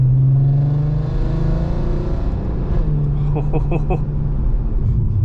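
Volkswagen Golf MK5 R32 engine in manual mode, heard from inside the car as a steady low rumble under road noise, with a brief rise in revs and a few short pulses near the end as it shifts down.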